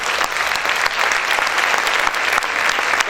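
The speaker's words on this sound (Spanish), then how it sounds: "Vamos a aplaudir fuerte al Señor." A church congregation applauds loudly and steadily, dense clapping filling the room evenly from start to finish with no pause.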